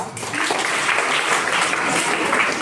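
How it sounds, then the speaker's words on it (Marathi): A school audience gives a round of applause for two students chosen for a science event. Many hands clap loudly and densely together for a few seconds, with no speech over it. "त्यांच्यासाठी टाळ्या वाजवा"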